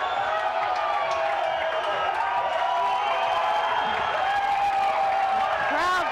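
Crowd at a racquetball grand slam final in Juarez cheering and applauding, a dense, sustained roar of clapping and shouts with whoops rising near the end.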